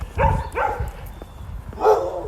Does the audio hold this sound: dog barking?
yes